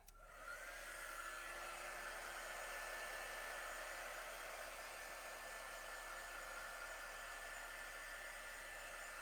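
A hair dryer runs steadily at close range, drying a freshly painted Halloween canvas; a constant loud whooshing hum with a faint high motor whine starts abruptly and holds without a break.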